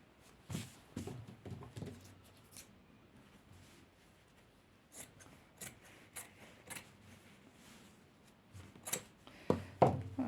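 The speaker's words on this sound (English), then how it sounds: "So just fold in half and cut, and then do the same again." Scissors snipping through folded paper up close, a scatter of sharp quiet cuts and rustles at irregular intervals with soft handling noise between them.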